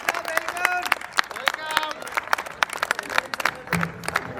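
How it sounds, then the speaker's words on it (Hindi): Audience applause at a poetry gathering (kavi sammelan) during a Central Bank of India foundation day cultural program, scattered sharp claps with crowd murmur and voices over the top. "आप पूरी ऊर्जा से एक बार अपनी तालियों से गनी साहब को आमंत्रित करें।"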